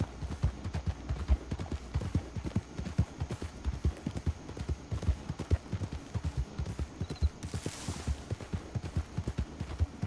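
A blue roan mare trots along in a video game, her hooves clip-clopping in a quick, even rhythm over several seconds, fairly close and crisp, with no talking.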